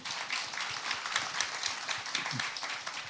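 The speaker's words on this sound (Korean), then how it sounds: "박수 한번 좀 쳐드리겠습니다." A studio audience on a Korean medical talk show about psoriasis claps to welcome a man onstage, a brief, faint patter of many hands with no voices over it.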